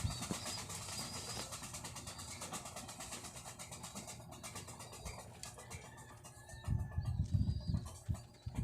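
Low, soft pigeon coos murmur through steady background noise, swelling louder near the end.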